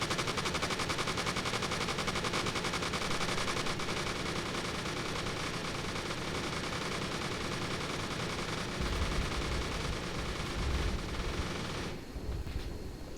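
A rapid, sustained burst of dumbfire rockets fired at a convoy in the military game Arma 3, a dense, continuous mechanical rattle of launches that ends abruptly with a few heavier thuds near the end.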